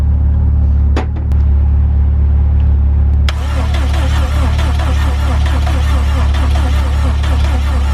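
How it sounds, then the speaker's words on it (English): A Subaru WRX engine cranks without catching: a loud, steady low drone broken by a couple of sharp clicks, then a rapid rhythmic churning of the starter spinning the engine for several seconds. "we're having turning but no start, so that's either fuel or ignition"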